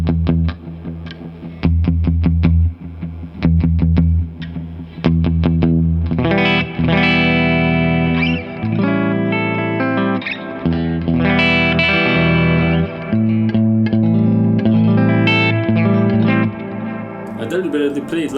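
A 2018 Fender Custom Shop 60s Stratocaster electric guitar plays loud, overdriven riffs and sustained chords through an amp, first in choppy bursts and then in fuller ringing phrases, with a heavy low end.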